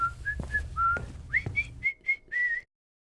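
A boy whistles a bright, merry tune while walking homeward, a run of clear sustained notes and quick chirps with a soft shuffling bed beneath the first half, then a brief silence at the end.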